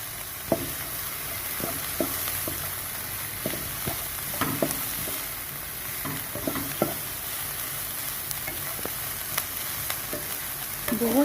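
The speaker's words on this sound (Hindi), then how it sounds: "शिमला मिर्च ऐड कर देंगे, इनको बस हम हल्का सा जो है सौटे ही करेंगे।" Capsicum sautéing lightly in a pan for a chicken roll filling, a steady soft sizzle broken by repeated clacks and scrapes of a spoon stirring against the metal, close by with no talking.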